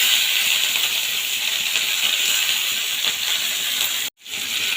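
Torn green chilies and onion chunks hit hot oil and sizzle as a strong, steady hiss up close, cut off by a brief silence before the frying resumes.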